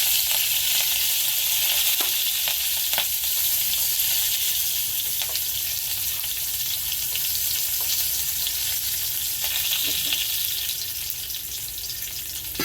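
Cumin, asafoetida and curry leaves sizzle steadily in hot tempering oil for a tomato curry, a loud continuous crackling hiss with occasional sharp pops and spatters.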